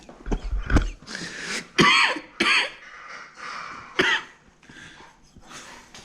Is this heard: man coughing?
yes